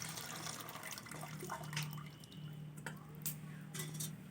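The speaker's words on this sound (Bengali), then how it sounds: "মূলোর জলটা ঝরিয়ে নেব।" Water is drained off boiled radish, a soft, fairly faint trickle and splash of liquid pouring out with a few drips, close by, with no talking.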